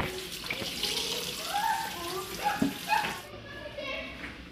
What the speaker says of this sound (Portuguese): Comadre vai lavar as salsichas agora